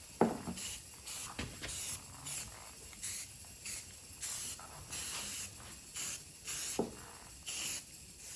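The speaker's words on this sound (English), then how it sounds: "I'm using Rust-Oleum's hammered paint" Short bursts of Rust-Oleum hammered spray paint from an aerosol can hiss onto a restored Reed 104 1/2 bench vise, repeated spritzes in an uneven rhythm with faint clicks between them, close and alone.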